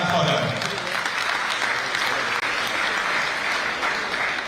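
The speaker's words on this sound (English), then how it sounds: "may I have a big round of applause for him?" At a tourism stakeholders meeting, an audience breaks into sustained applause, steady clapping from a roomful of people lasting several seconds.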